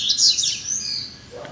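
A double-collared seedeater (coleiro) perched on top of a cage outdoors on a street sings bright, high, rapid twittering phrases, close and clear with no other sounds over it.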